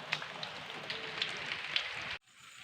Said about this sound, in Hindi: तो देखिए आज बरसात का मौसम है,